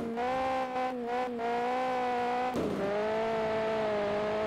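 A race car engine screams at high revs in the Test Drive: Eve of Destruction racing game, a loud, steady, buzzing whine that briefly dips with a tire screech as it shifts and then holds its pitch.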